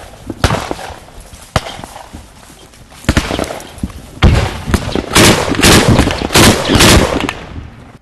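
Repeated sharp automatic-weapon gunshots crack out during combat at a factory in Sloviansk, Ukraine, scattered at first and then in denser bursts, with heavy mortar thuds among them, loud and fairly close.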